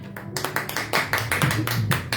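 Applause from a church congregation fills the space, a dense patter of many hands clapping steadily throughout, with music or a low hum underneath.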